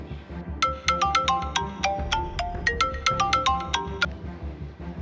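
A phone ringtone plays a bright, rapid melodic sequence of short notes over a low background hum, lasting a few seconds.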